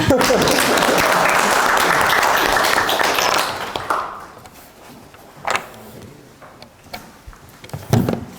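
Audience applause at a forum on opposing state-authored history textbooks fills the first few seconds, then cuts off into a quieter room with scattered knocks, shuffles and a speaking voice.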